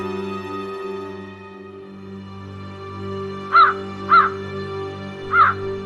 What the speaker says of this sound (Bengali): মাঝরাতে কি কাক ডাকে